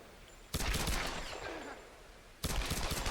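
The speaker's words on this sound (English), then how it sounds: "Well, let's shoot these guys." Automatic gunfire in the video game Tomb Raider erupts in two loud rapid bursts, the first lasting nearly two seconds with a fading tail, the second starting after a brief lull.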